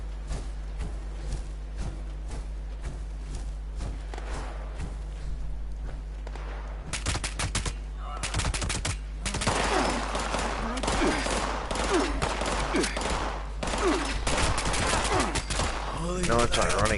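Video game gunfire, with bursts of rapid automatic shots that grow denser and louder partway through, crackling over a steady low hum.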